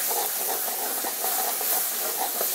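Steady hiss of steam rising from a pot of boiling rajma kidney beans in a home kitchen, a continuous close wash of noise with faint bubbling throughout and no voices.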